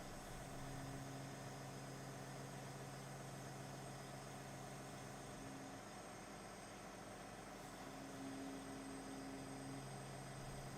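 A John Deere 1050K dozer sits idling during its cool down on a trailer, a steady low engine drone running continuously and evenly throughout, with no talk.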